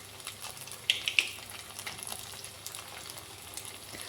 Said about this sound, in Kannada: ಇವಾಗ ಇನ್ನೊಂದು ಸತಿ ಹಾಕ್ಕೊಂಡು ಇನ್ನೊಂದು ಕಾಲು ಭಾಗ ಬೇಯಿಸ್ಕೊಂಡ್ರೆ ಕ್ರಿಸ್ಪಿಯಾಗಿ ತಿನ್ನೋಕ್ಕೆ ಚೆನ್ನಾಗಿರುತ್ತೆ